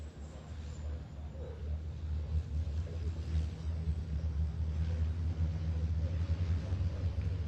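Racing trucks in the British Truck Racing Championship form up two by two for a restart at the Snetterton 300 circuit, their engines making a deep, continuous rumble as the revs gradually rise.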